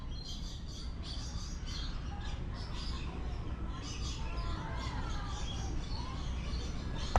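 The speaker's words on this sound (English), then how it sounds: "I'll be quiet so you can hear the birds." Birds chirping in the Long Beach wetlands, light repeated tweets over a steady low rumble of wind and distant traffic, faint and somewhat distant.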